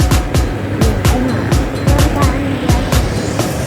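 A McLaren supercar engine at a supercar gathering in Medan, Indonesia, revs loudly and close by in repeated throbbing pulses over steady road and crowd noise.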